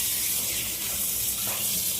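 Tap water runs steadily into a sink while fish are being washed, a continuous close splashing gush with no talk.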